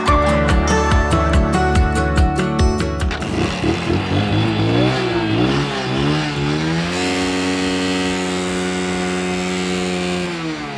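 A homemade four-wheeled bike's engine runs on a test drive, a loud buzzing putter with fast regular pulses that revs up and shifts pitch, then settles into a steady drone.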